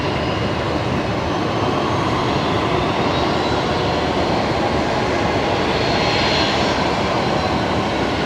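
Qantas 97, a jet airliner bound for Manila, taxiing at Brisbane Airport at night; a steady, loud broadband engine roar and rumble holds throughout, with no talk over it.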